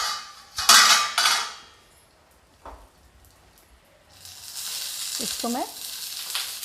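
Stuffed brinjal sizzling in a covered pan, with loud clattering as the lid is lifted and a spatula pokes and turns the pieces, followed by steady frying hiss and a voice speaking briefly.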